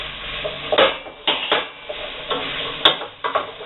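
Chopped carrot and onion are stirred in a pot, a series of distinct scraping and clinking strokes at an irregular rhythm, close and fairly quiet, with a faint sizzle beneath and no talking.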